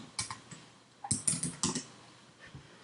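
Someone types a short word on a computer keyboard: quiet, close keystroke clicks in a few quick bursts with small gaps between them.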